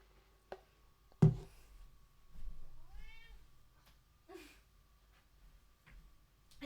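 A house cat meows a few times indoors, short, fairly close calls separated by quiet pauses, with a couple of sharp knocks and small household sounds between them.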